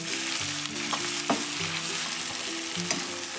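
Onions, tomatoes and capsicum for Kashmiri restaurant-style mutton kanti sizzle steadily in a pan, broken by occasional scraping stirs, with a faint tonal background beneath.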